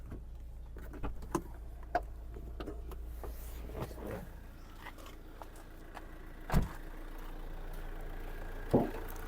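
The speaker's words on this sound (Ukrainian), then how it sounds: "Двигун працює чітко, екологія на місці." Renault Grand Scenic 1.9 diesel engine idling steadily with a low, continuous hum, broken by a few brief clicks and knocks nearby.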